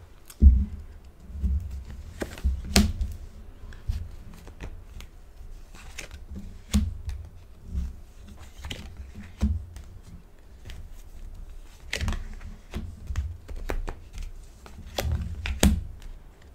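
Tarot cards shuffled and laid out one by one on a table for a monthly Aquarius reading, with soft scattered taps, slides and flicks close by, quiet and unhurried, no voice.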